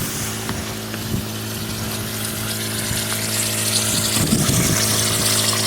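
An inground sprinkler zone being blown out with compressed air during winterizing, giving a steady, loud hiss and gush of air and water that holds throughout and swells slightly near the end.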